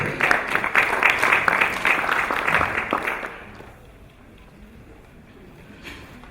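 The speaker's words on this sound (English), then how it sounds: "Round of applause for Eva" Applause from an audience at an alumni conference in Kenya, a burst of clapping for about three seconds that fades quickly into quiet room tone.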